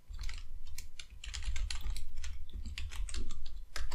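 Computer keyboard clattering as code is typed, a close, steady burst of rapid key presses with brief pauses between runs, alone with no talking.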